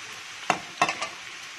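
A spatula stirs chopped vegetables for poha in a frying pan, giving three brief scraping strokes over a soft sizzle, close and alone.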